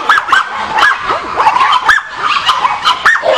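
Several dogs bark and yip close by in quick, overlapping bursts, with some whimpering mixed in.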